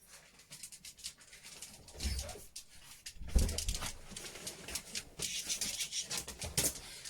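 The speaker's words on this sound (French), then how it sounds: "j'ai mon chien qui est venu me rejoindre" A dog comes in from outside and joins its owner indoors, giving short panting and whimpering sounds with soft pattering steps close by, in uneven bursts rising and falling.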